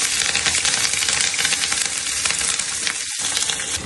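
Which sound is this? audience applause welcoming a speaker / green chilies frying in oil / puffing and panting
green chilies frying in oil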